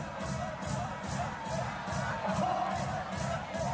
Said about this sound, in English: Well, the crowd is going wild.